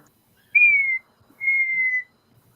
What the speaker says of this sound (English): I love that whistle. It makes me smile every time.